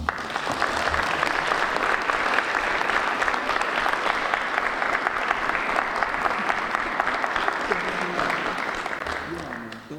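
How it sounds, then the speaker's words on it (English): Standing applause from the audience at an awards ceremony in New York, a loud, continuous roar of many people clapping for ten seconds, even in intensity and close, fading slightly at the end. "please give a standing applause for the outstanding professional achievement for Miss Valerie Smaldone."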